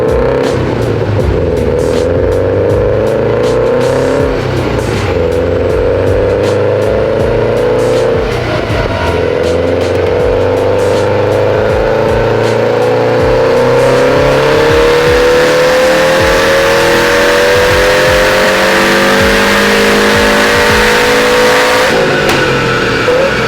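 A built Subaru STI engine roars continuously and loud on a dynamometer pull, its pitch climbing steadily through the revs with crackling harmonics before dropping off at the end.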